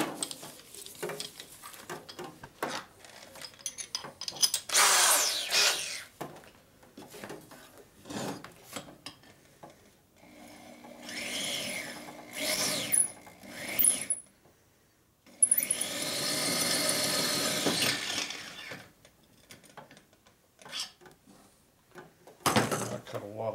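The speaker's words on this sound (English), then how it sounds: "So we're going to use a drill motor that I got no control over." A drill motor whines up in bursts while its cutter grinds and rasps against metal at close range, rebuilding 1942 Harley-Davidson WLC/WLA 45ci transmission parts, interrupted by scraping and handling noises.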